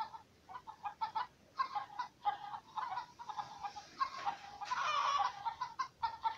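Cartoon chickens in the mobile farming game Egg, Inc. cluck in quick repeated bursts, a busy overlapping flock sound that stays fairly loud and close with no voices over it.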